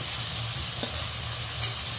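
Prawns stirred lightly in a frying pan for a sour tomato dish, with a steady close sizzle and two brief utensil clicks against the pan.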